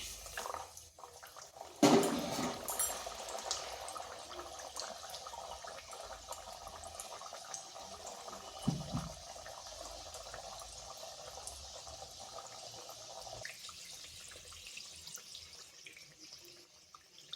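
Nan puri dough drops into hot oil, producing a steady soft bubbling sizzle with a louder burst as it goes in and a brief bump midway, close and without talk.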